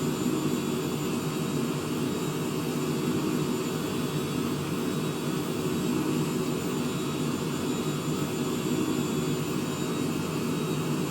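Steady jet engine drone inside a flight simulator game, a continuous broadband roar with faint tonal whine, unchanging and alone for the whole stretch.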